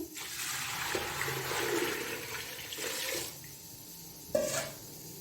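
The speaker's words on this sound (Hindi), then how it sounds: "इसी के साथ मैं पानी डालूंगी" Water pours steadily for a few seconds, splashing into a pressure cooker for chicken soup, then stops, followed by a brief clatter.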